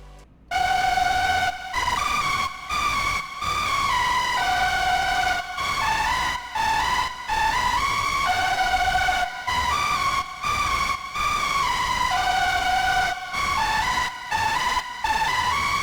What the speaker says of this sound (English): So this is the synth lead that I added.